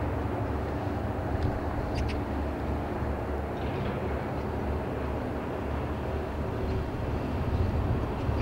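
Long freight train moving slowly through the port of Vladivostok, a steady low rumble and rolling drone with faint metallic clanks, continuous and moderately distant.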